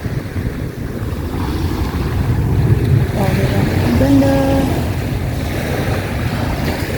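Sea waves splash and wash at the seaside at seven in the morning, a steady rushing surge with wind noise, while someone speaks a few words over it.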